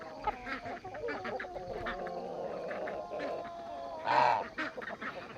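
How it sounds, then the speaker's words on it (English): Geese and ducks on a farm honk and quack in a busy cluster nearby, with a louder burst of calls near the end and a voice talking among them. "We've got the geese. Let's go visit the geese."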